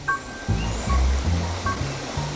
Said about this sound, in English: As you can hear the water flowing,